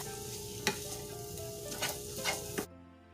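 Seasoned food with garlic powder and black pepper being stirred in a pan on the stove, a soft sizzle with a few scraping strokes before it cuts off abruptly.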